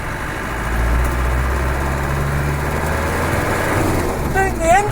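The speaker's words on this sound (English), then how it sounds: "The engine seems to be quite good, you know, and it starts well." Land Rover 110 engine idling steadily outdoors after a snow storm, a continuous low rumble running through the whole stretch with a brief higher whine near the end.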